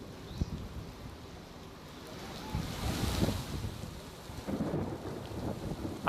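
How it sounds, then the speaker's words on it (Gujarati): Thunder rumbles through a heavy monsoon downpour with strong wind near Moti Vadal in Gujarat, a steady wash of rain and gusts swelling into a deep rolling crack midway, with no talk. "વીજળીના કડાકા ભડાકા સાથે વરસાદ થયો."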